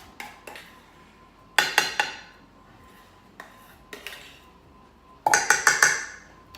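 A metal spoon clinks and scrapes against a dish while spreading a layer of a five-layer dessert, in scattered taps and two clusters of sharp clatter, close and alone.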